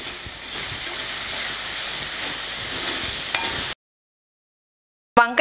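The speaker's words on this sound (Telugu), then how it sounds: "వంకాయ ఉడుకుతోంది" Eggplant pieces sizzling in a pan while cooking for an Andhra vangi bhaath, a steady close frying hiss that runs for several seconds, then cuts to silence before a brief burst of other sound.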